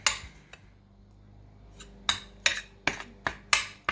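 A utensil scrapes and clinks against a pan while butter is stirred into graham cracker crumbs, giving a series of sharp, close taps and scrapes that quicken toward the end.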